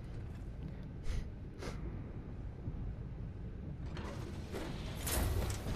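A vault release valve mechanism in the fantasy game Skyrim turns and grinds with a low rumbling churn, marked by a couple of sharp metallic clanks, then a rising hiss and rattle near the end.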